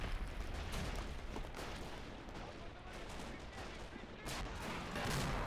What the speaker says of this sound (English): A few of the Russians near the mortars themselves are dying to the German artillery fire.